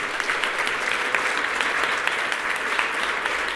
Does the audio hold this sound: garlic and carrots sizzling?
no